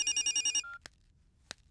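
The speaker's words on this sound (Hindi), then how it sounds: "फोन।" Telephone ringing in a quiet room: a quick run of six electronic ring pulses, bright and fairly close, then silence broken by two short clicks.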